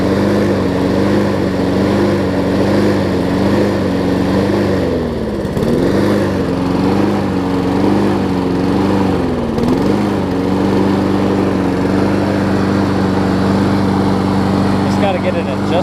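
A well-used Honda push lawn mower engine runs steadily up close, a loud continuous drone with a couple of brief dips in speed as the throttle or choke is adjusted.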